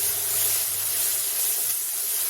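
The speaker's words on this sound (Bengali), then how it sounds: "এই যে ডাল ঢোকলি পুরো ফুটছিল" Dal dhokli boils hard in a pan, a steady close hiss and bubbling roar that carries on without a break and without any voices.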